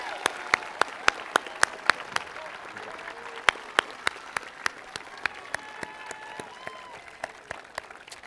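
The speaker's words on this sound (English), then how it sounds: "Please join me in a round of applause for these students and the rest of the class of 2021." Scattered, fairly sparse clapping from a high school graduation audience crackles on steadily, with individual sharp claps standing out and a faint voice briefly underneath.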